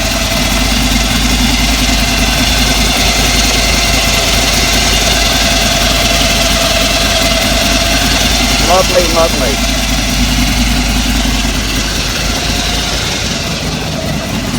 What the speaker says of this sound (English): there's that beautiful supercharger whine